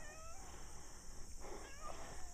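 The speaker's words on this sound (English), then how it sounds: "Sometimes cats like to come along on these short walks." A cat tagging along on an outdoor walk meows several times, faint and somewhat distant, over steady outdoor background noise with a constant high insect-like hum.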